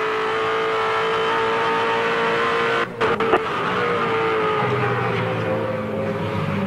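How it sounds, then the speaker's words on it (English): Holden V8 Supercar race cars at Phillip Island in 2007 circuit racing, engines droning loudly and steadily, with a brief break near three seconds before a car's high engine note swells and shifts as it passes. "There's still a bunch of cars on the racetrack."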